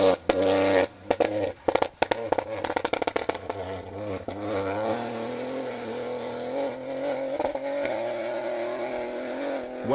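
A damaged rally car handling badly on a closed stage of the Carryduff Forklift Down Rally 2023, engine loud and close with revving bursts and crackles early on, then a steady strained drone as it drives past.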